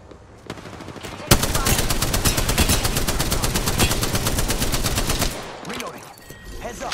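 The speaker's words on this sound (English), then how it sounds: "Shots fired." Rapid automatic gunfire in Apex Legends, a loud, dense burst of evenly spaced shots lasting several seconds before cutting off, with faint voice chatter around it.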